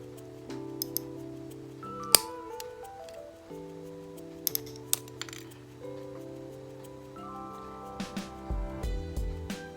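Artificial nail tips being trimmed to length with clippers at home, giving a few sharp isolated snips and clicks over quiet background music.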